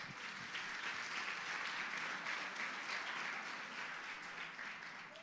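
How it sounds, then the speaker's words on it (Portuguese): A church congregation claps during a worship service, a continuous, even wash of many hands applauding together, fairly faint and distant, with no voices over it. "Tu pode aplaudir Jesus?"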